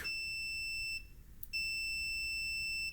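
A multimeter sounds a continuity-test beep while checking ground connections during Fender-to-Ibanez bass wiring work: a steady high electronic tone holds for about a second, drops out briefly, then returns and sustains close and clear with no talk.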